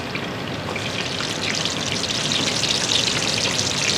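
Food drops into a wok of oil heated past 200 degrees for a Chinese dish and fries with a loud, dense, crackling sizzle that swells slightly and holds steady throughout, with no voices over it.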